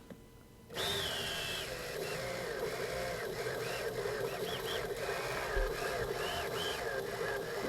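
Brushless drone motors set to 3D mode whine steadily at close range after the throttle comes up, with a tonal hum that wavers slightly in pitch and stays at an even level throughout.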